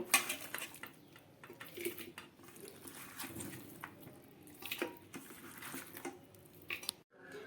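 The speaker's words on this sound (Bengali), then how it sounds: "এবারে আমি মটনটাকে এখানে প্রেসার কুকারে দিয়ে নেব" Mutton being placed into a pressure cooker, with repeated metallic clinks and wet squishy handling of the meat and pot, irregular taps and scrapes up close, ending in a brief silence.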